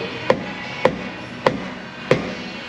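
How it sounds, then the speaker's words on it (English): Four sharp hammer taps on a metal part during a sketchy repair, evenly spaced about half a second apart, close and distinct against a low background hum. "Okay, a couple hammer taps."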